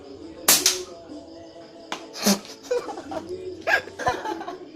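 A homemade gun fires several sharp, close pops at uneven intervals outdoors, with people's voices and laughter between the shots.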